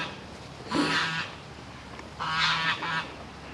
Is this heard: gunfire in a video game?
no